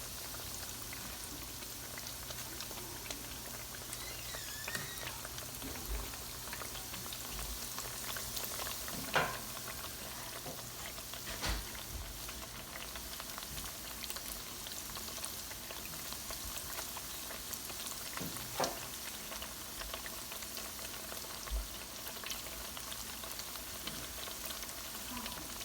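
Zucchini slices fry in hot oil for a quick summer side dish, giving a steady, fine crackling sizzle throughout with a few louder pops and spits, heard alone without talk.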